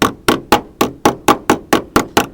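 A car body panel is struck with a hammer before welding, about ten sharp metallic blows in an even, steady rhythm, loud and close with nothing else heard.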